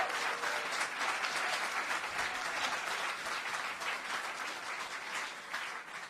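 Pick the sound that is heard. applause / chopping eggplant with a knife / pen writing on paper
applause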